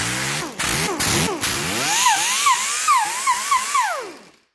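A Facom finger sander fitted with 40 grit paper grinds rust off a Jeep Cherokee Liberty, a loud high whine that swoops up and down in pitch as the tool is pressed and eased, with short bursts before winding down.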